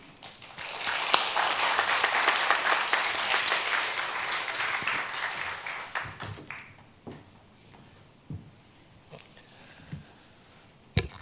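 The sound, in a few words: audience applauding at a church retirement ceremony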